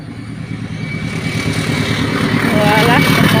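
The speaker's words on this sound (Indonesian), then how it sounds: "motor pas lewat" A motorcycle passes close by with a mid-pitched engine drone that builds steadily louder. People talk over it the whole time.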